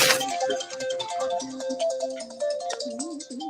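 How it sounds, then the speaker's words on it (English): A phone ringtone plays a bright, repeating electronic melody of quick plucked notes, loud and close, running for several seconds with no talking. "thought that was Rich's phone"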